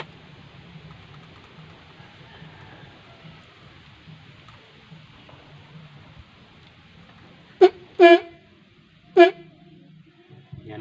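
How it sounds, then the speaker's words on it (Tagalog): Three short car horn honks, tested after installing a new horn, stand out after a quiet stretch of low background hum, the middle one slightly longer. "subukan natin busina mga boss"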